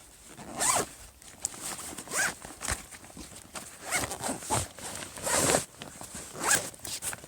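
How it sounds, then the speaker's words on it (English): A zipper on a hot tent and stove bag rasps in several short pulls with pauses between, close and fairly loud, alone without voices. "and then it closes and zips up."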